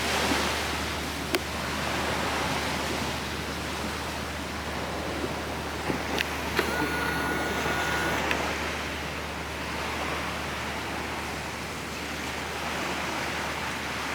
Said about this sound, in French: Et le vent est très fort.